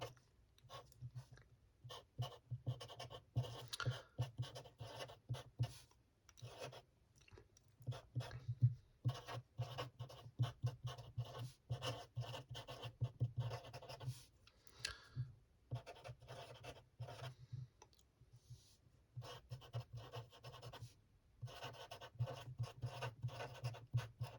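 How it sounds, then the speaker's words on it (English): Close, quiet scratching of a pen writing by hand on paper, a long irregular stream of short strokes with brief pauses, intimate and whisper-soft in an ASMR setting. "I'm going to write it down because it's quite something"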